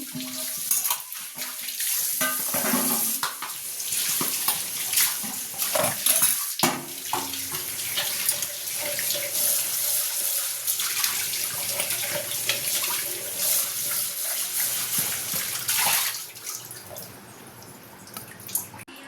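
A kitchen tap runs steadily into a sink while dishes are washed, a close, continuous splash that stays loud throughout, with a brief quieter dip near the end.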